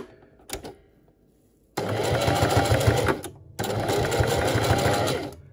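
A home sewing machine stitches a canvas pouch for a cooking kit in two steady whirring runs with a short pause between them. A brief mechanical clunk comes first.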